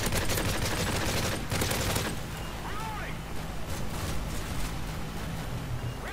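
Gunfire in the video game Modern Warfare 3 rattles out in a dense automatic burst for about two seconds, then gives way to quieter scattered effects and background game noise.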